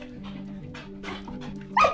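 A dog in a canine cognition experiment at a university research center gives a few short yips and barks over a steady low hum, ending with a sharper, louder bark; no one speaks.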